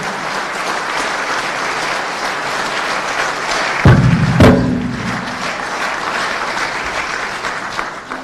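A large crowd at an Armenian political gathering breaks into loud, sustained applause in support of the Armenian Apostolic Church, dense clapping throughout with a heavy thud partway through.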